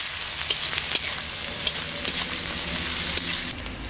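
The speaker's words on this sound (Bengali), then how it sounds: "পেঁয়াজটাকে একটু লালচে লালচে করে আমি ভেজে নেব।" Onions frying in a pan with salt, giving a steady bright sizzle with a few sharp pops and stirring clicks, close and continuous until it eases off at the end.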